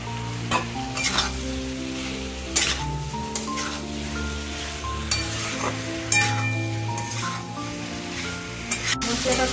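Potatoes fry in a pan of cooked-down spiced masala, a constant close sizzle under repeated scraping strokes of a spoon stirring them, with a few sharper clinks against the pan and no talking.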